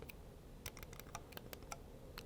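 A quick series of sharp, light computer mouse button clicks, irregularly spaced, close up and fairly quiet against a low background hiss.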